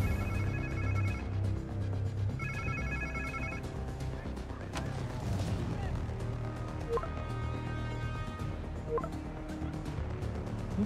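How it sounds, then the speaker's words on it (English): A phone rings in two short electronic trill bursts in the video game Marvel's Spider-Man 2, then quieter ringing tones follow amid low background noise and occasional thuds. "Sounds like somebody's phone."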